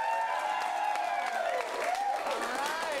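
Improv comedy crowd clapping and cheering to vote for a sci-fi scene, a steady wash of applause with whistles and shouted voices sliding through it.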